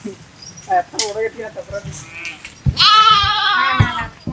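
Sheep bleat close by, one long wavering cry standing out, with a person's voice and other animal calls around it.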